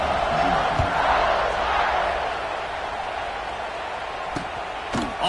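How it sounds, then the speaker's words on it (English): College football stadium crowd buzzing after a score, a dense, sustained roar of voices that swells briefly and then settles, with a few sharp knocks near the end. "this crowd is buzzing after that last score"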